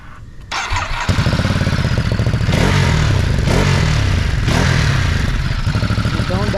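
A Ducati Monster motorcycle fitted with Termignoni exhaust tips cranks and fires up close by, catching after a brief starter whir and settling into a loud, lumpy, pulsing idle with mechanical clatter.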